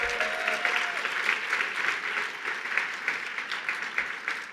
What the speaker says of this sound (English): Amanda Stenberg, let's give her a big round of applause.